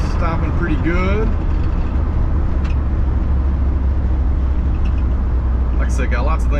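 A Forest Service K30 one-ton solid axle truck drives along with a steady, loud engine and road rumble, with loose parts rattling inside the cab; a voice speaks briefly near the start and again at the end.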